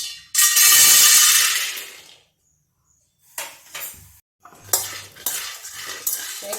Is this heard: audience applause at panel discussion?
no